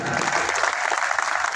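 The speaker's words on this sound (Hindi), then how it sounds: "इस आयोजक मंडल के लिए पुनः एक बार जोरदार ताली होनी चाहिए" Loud, dense applause from an audience at a Buddha festival gathering in Prayagraj, sustained and steady across the whole moment with no pauses.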